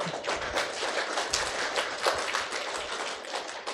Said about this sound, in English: I actually want to say a round of applause.